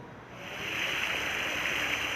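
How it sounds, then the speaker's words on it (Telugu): A rain-swollen stream rushes past in a steady, soft, continuous flow, with no voices over it. "వాగు ఎట్లా పోతుందో చూద్దాం."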